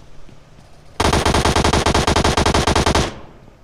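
Rapid burst of submachine gun fire in the mobile battle royale game PUBG Mobile, a single sustained volley of about two seconds with evenly spaced loud shots, nothing else around it.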